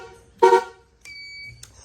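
Horn on a Honda CB motorcycle in PsP style, one short loud honk followed by a steady higher electronic tone, close by, with no speech.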